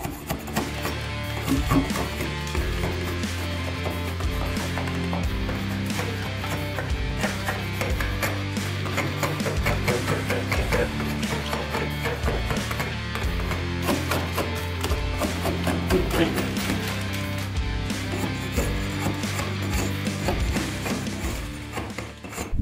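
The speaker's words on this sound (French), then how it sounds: "éliminer les petits résidus que vous avez entre guillemets zappés en grattant à l'aide du riflard." A riflard scraper rasps steadily across a damaged plaster ceiling in repeated rhythmic strokes, close and continuous throughout.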